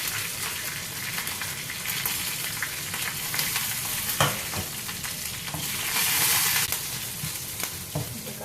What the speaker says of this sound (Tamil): கடுகு பொரிஞ்சோன்னா கருவேப்பிலை போட்டு